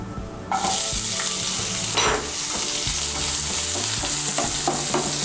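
One medium chopped onion drops into hot oil, which bursts into a loud sizzle. The frying continues steadily under repeated stirring and scraping in the pan, with no voices.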